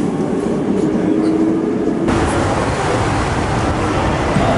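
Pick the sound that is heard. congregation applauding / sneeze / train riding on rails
train riding on rails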